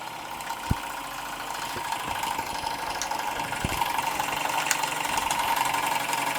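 A Stirlingkit Retrol SE-03 model steam engine drives a small GF-01 generator, giving a steady, fairly quiet mechanical running hum with a faint rhythmic chuff and a few light knocks.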